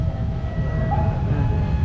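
A KRL commuter electric train rumbles past at close range at Lempuyangan Station, a steady low roar with a faint high whine running through it, continuous for the whole stretch.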